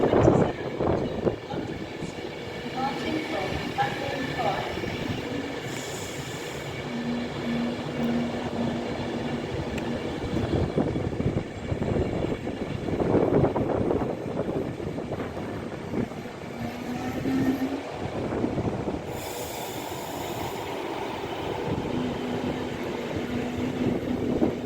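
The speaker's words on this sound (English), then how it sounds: "coming in on platform 1 we have 39117 with the late 11:47 Avanti West Coast service to Manchester Piccadilly" Avanti West Coast service, unit 39117, pulling into platform 1 at Rugby on the West Coast Main Line, a steady rumbling roll with brake squeal tones throughout, fairly near, with faint voices in the background.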